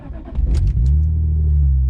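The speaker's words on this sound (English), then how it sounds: "I'm gonna fire up the car and get the AC going." A tuned BMW E46 M3 engine cranks and fires up close by, the starter's brief churn giving way to a loud catch and a steady, deep idle rumble that holds to the end.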